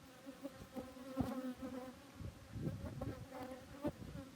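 A dense, steady buzzing of many honey bees swarming close together, with louder individual drones flitting in and out.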